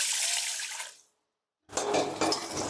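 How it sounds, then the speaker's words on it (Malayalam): Tap water splashes steadily into a bowl as rice is rinsed for dosa batter, a brief pause cutting the flow before it gushes back strongly, close and alone with no talk. "നമുക്ക് അരി കഴുകി വെള്ളത്തിലിടാം"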